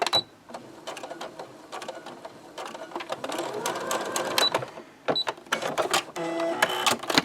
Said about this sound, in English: Okay, back stitch it a little bit, so make sure you've got it secure.